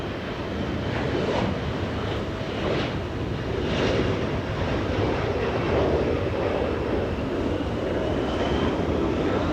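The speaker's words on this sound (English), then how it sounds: "Now Joshua zooming into a Dreamliner using 25 right in the south for departure." A United Boeing 787 Dreamliner departing runway 25 Right at Los Angeles International Airport, a steady, distant jet roar with gusty buffeting running through it, holding at an even level throughout.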